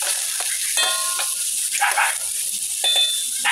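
Chopped onion sautéing with garlic in a little oil for a Filipino mung bean and vegetable dish, a steady soft sizzle with faint stirring scrapes throughout.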